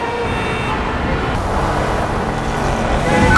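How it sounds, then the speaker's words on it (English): Rush-hour city traffic in Las Vegas, a constant close roadway rumble of passing cars with a few horn-like tones, steady throughout with no talking. "Rush hour in the city is truly something else."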